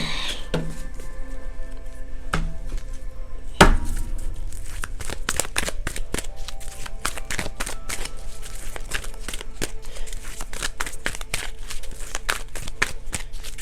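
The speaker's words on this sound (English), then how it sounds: "Alright, let's pull all these cards back." A deck of Kipper cards being shuffled, with rapid riffling clicks and snaps running steadily through the whole stretch, close and fairly loud, with one sharper knock near the start.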